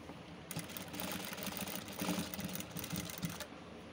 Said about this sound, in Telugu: ఇప్పుడు దాని మీద మనం స్టిచ్చింగ్ చేసుకోవాలన్నమాట.